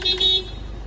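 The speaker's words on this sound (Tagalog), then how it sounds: "Busina." A short horn blast sounds from a 2015 Mitsubishi L300 Exceed van, about a third of a second long and close, then cuts off, leaving low engine idle.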